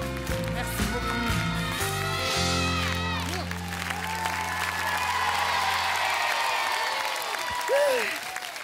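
A studio audience on a French TV show applauds for the guest Tal, with sustained clapping and a few cheers mixed under tonal music and sweeping effects.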